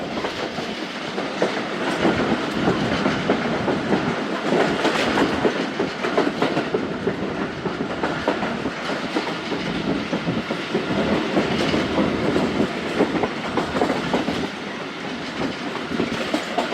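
The Khyber Mail train rumbles steadily along the rails past Machhikot railway station, with a continuous clatter of wheels and broadband roar throughout, close and loud, no talking.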